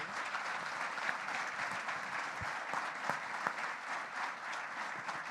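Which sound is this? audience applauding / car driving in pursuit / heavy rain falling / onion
audience applauding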